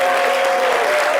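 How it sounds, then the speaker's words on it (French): A French-language television studio audience gives brief, steady applause as a guest is welcomed and invited to sit, heard close and fairly loud. "On applaudit Angèle Asselé qu'on va inviter"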